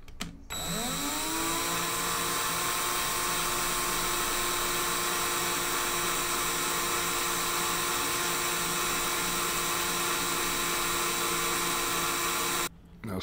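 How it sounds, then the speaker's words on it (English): Electric drill whirring steadily while building a zipper vape coil, spinning up at the start and running at an even, loud pitch for about twelve seconds before a brief stop and restart near the end. "let's change the setting on the drill."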